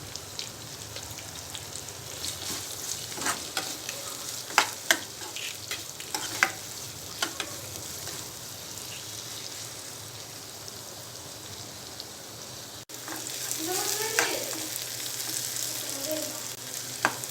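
Onion pieces with turmeric sizzle steadily in a pan for a tamarind leaf and potato curry, a constant close frying hiss broken by scraping stirs and occasional utensil knocks.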